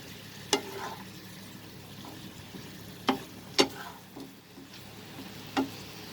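Fried potatoes and chicken stirred in a pan over a low flame, a quiet sizzle beneath four sharp spoon-on-pan clanks spaced a few seconds apart, close and without talking.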